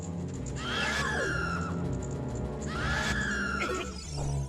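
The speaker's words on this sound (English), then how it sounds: "This enemy from the games would move towards its victims slowly and be able to paralyze them with its gaze while letting out a horrific screech" The Re-Dead enemy from a Legend of Zelda video game lets out a horrific screech: two long, shrill, wavering cries over a loud droning background, each rising and then falling away.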